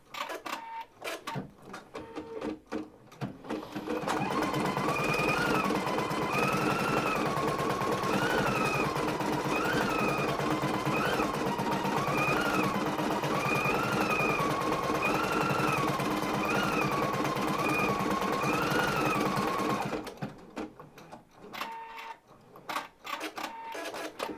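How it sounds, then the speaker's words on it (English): An embroidery machine stitches a star outline onto stitch and tear stabilizer, a loud, steady mechanical whir with a rapid needle chatter and a cyclic rising and falling motor whine running for about sixteen seconds between quieter handling noises. "we're going to stitch it out on this stitch and tear"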